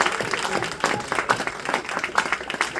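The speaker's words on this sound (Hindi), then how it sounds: "भाई साहब, तालियां बेहद कमजोर है आपकी" Audience at a tribute gathering claps in scattered, uneven bursts, a moderately loud crowd of hands with some distinct individual claps and a faint voice now and then.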